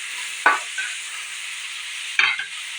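Onions fry in a pan for a Telangana-style dried fish curry, a smooth steady sizzle punctuated by two distinct stirring scrapes, one early and one late, heard close and alone.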